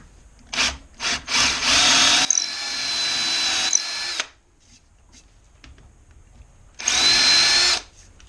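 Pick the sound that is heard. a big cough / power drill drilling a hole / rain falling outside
power drill drilling a hole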